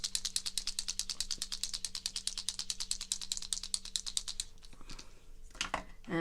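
A bottle of craft paint is shaken hard for several seconds, making a steady fast rattle of a mixing ball knocking inside, then a few softer handling clicks and rustles.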